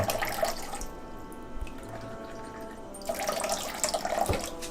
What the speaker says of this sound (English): I put water in it.